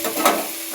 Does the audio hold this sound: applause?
no